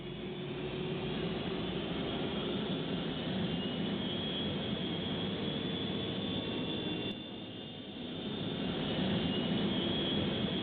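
Simulated MD-80 Pratt & Whitney JT8D-209 jet engines at takeoff power in X-Plane, a constant muffled roar with a thin whine on top, dipping briefly before swelling again.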